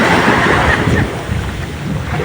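Sea waves wash onto a beach on the Philippine coast, with wind buffeting the microphone. The surf and wind make a steady, loud roar for about two seconds, with no talking.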